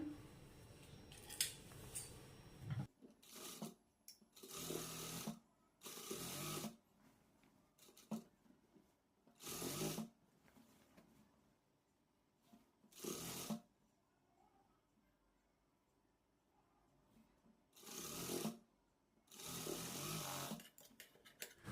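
A sewing machine stitches a nightie seam in short repeated bursts of a few seconds each, separated by quiet pauses, loud and close with no talk.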